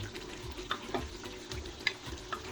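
Masala of ground tomatoes, dried coriander powder and cumin powder fries in a pan for a bary paye dish, a soft sizzle broken by light stirring clicks and taps, faint and close with no voices.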